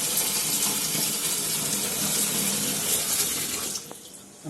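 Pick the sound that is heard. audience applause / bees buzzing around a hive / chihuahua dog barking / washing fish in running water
washing fish in running water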